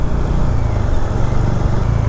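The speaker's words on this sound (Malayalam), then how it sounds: "ഇതാ പറഞ്ഞ കണ്ട റോങ് സൈഡ് ഓരോരുത്തർ കയറി വരുന്നത്." Road traffic at night, with vehicles coming up on the wrong side of the road, heard as a loud, steady engine and tyre drone passing close by.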